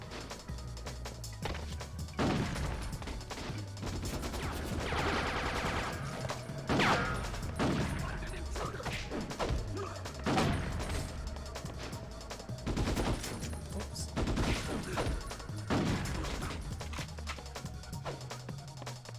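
Shotgun blasts in the PS2 game Ghost in the Shell: Stand Alone Complex, heavy booming shots repeating every couple of seconds among clanking game action, fairly loud and up front.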